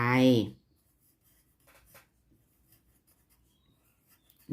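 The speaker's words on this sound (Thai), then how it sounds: "เราก็เขียนคำว่าธงลงไปนะคะ" A voice speaks briefly, then a pen or pencil writes a word on paper with faint, short scratching strokes in a quiet room.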